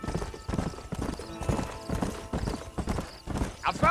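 Horse hooves clip-clop in a steady walking rhythm in the Red Dead Redemption video game, close and clear, with a brief whinny toward the end.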